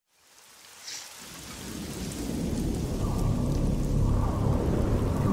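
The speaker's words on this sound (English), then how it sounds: "It was a cold and windy," Heavy rain falls steadily in a storm scene from a Skibidi Toilet episode, growing from silence to a dense continuous hiss, with low rumbling thunder underneath and no voices.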